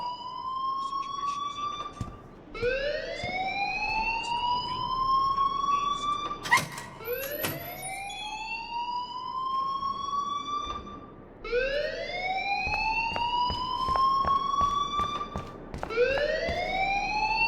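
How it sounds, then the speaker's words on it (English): A rising, repeating siren-like school alarm sounds in the video game Life Is Strange, sweeping upward in cycles about every few seconds, moderately loud with no talking. "please turn off that alarm since that's your job"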